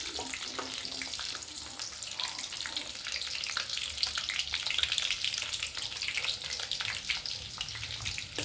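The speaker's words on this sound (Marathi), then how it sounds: "आता त्यातच मी हा लसूण चांगला गोल्डन कलर होईपर्यंत परतला" Garlic sizzles steadily in hot oil in a pan for a fish curry, a dense crackling hiss with occasional stirring scrapes, close and continuous without talk.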